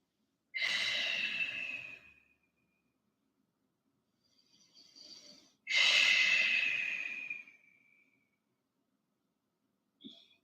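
Slow, deep yoga breaths during a forward fold, two long airy exhales several seconds apart with a quieter breath between, close and alone.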